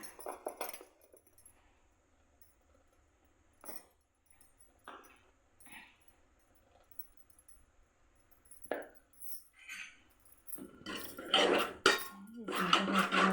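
A spoon clinks and scrapes against a metal pot while bamboo-shoot curry with chili powder is stirred, with sparse scrapes at first and then busier, louder clatter toward the end.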